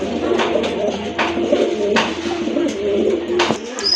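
Racer pigeons kept in a loft coo in repeated soft, throaty calls, close by and moderately loud, with no speech.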